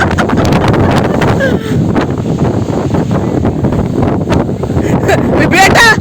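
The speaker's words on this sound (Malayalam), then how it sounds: "ഇതാണ് കാറ്റ്, ഇതാണ് കാറ്റ്." Strong wind on a hilltop buffets the microphone in a continuous loud roar, with voices speaking under the gusts.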